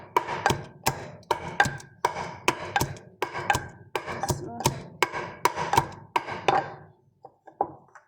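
Garlic cloves pounded and crushed by hand, a close run of steady, evenly spaced thuds at about two blows per second that taper off near the end, with no voices.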